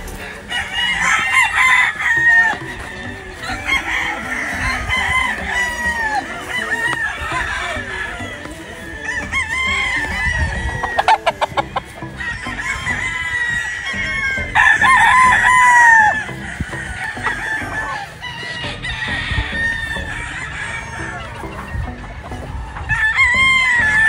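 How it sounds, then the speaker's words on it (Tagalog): Quality derby gamecocks crowing repeatedly and clucking at a cockfighting setting, several birds close by with overlapping calls and a busy, noisy background throughout. "Mga naka-cord na mga quality at napakagwapo na mga manok."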